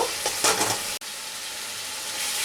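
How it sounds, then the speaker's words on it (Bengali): Fried ingredients sautéed with salt in hot oil for a mung dal dish, a dense steady sizzle broken once by a brief dropout and faint stirring sounds early on; no speech. "আরও একটু কষিয়ে নেব"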